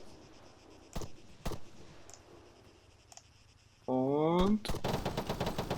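Gunfire in the military shooter ArmA 3, with scattered single sharp shots early on, then a louder burst of rapid fire near the end. Someone speaks briefly over it.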